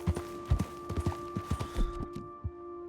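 Horse hooves in Red Dead Redemption 2 clip-clop in an even walking rhythm, faint and close, over a steady low hum that cuts off near the end.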